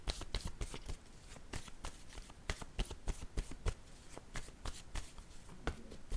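Tarot cards shuffled in repeated quick riffles, a steady run of crisp papery slaps and flutters at close range, with no talk over them.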